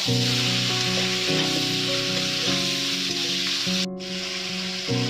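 Chicken pieces frying with onions in a pan for a Bengali chicken kosha curry, a steady broad sizzle running continuously and fairly loud, with a lower tonal hum beneath and no voices.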